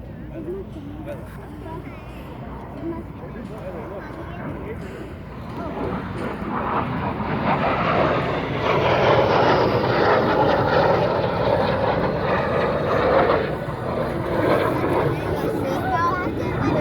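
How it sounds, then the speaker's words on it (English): An L-39 Albatross jet passes over an air show, its engine roar swelling from a distant hum to a loud, sustained rush, with an announcer's voice and crowd babble throughout. "From show left to show right, Ryan Reynolds, L-39 Albatross, opening up the 21st Olympic Air Show."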